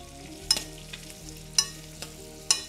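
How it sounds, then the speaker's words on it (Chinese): Figs are lightly pan-fried alongside duck breast for a red wine fig sauce, giving a low steady sizzle punctuated by three sharp clicks of a utensil against the pan. "輕輕煎一煎佢，其實無花果就可以落埋落去噶啦"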